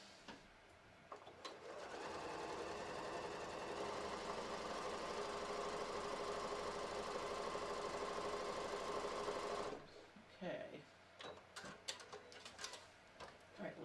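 A sewing machine stitches a row beside a ripped seam, running steadily and close for about eight seconds with a rapid mechanical chatter, then stopping, followed by quieter handling clicks.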